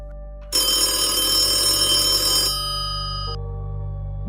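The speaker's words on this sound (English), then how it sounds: "a room phone somewhere down the hall began ringing" A telephone rings steadily in a motel, heard from a room down the hallway, its bright bell tone loud and continuous for about two seconds before dropping to a fainter lingering ring over a low background hum.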